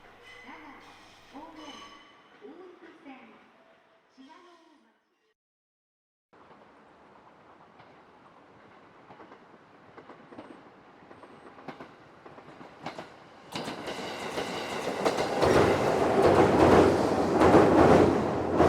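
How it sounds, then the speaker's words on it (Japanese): The first morning train on the Ōito Line pulls out of Matsumoto station in the half-light, starting with quiet rumble after a few tonal chimes, then building into a loud, rushing roar of wheels and motor toward the end. "辺りが薄暗い中、始発列車が松本を出て行きます。"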